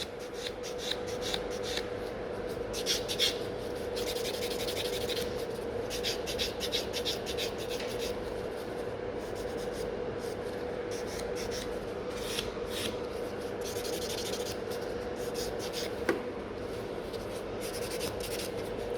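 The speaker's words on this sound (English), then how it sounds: "So right in the middle I can file a little bit faster." Rhythmic rasping strokes of a nail file working over a gel nail, then buffing, close and steady with quick repeated passes and brief pauses, no voice over it.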